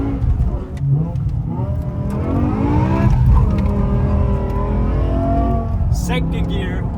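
A BMW M6 with its V10 engine revs up hard through the gears, a loud, rising engine note that swells and shifts, with someone talking over it.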